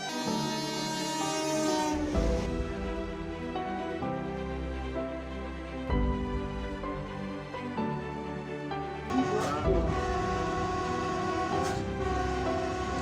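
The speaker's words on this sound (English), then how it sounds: "When startled by the train horn" A train passes loud and close with sustained engine rumble and rolling wheel noise, with a horn-like tonal blast standing out over a thick, busy wash of sound near a railway track where livestock roam.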